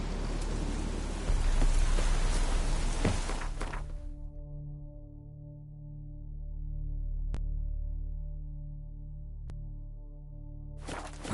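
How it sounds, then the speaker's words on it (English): Steady rain hisses in The Witcher 3 for about four seconds, loud and close, before cutting off abruptly into a quiet low droning tone, with a burst of rain returning at the very end. "Looks like rain."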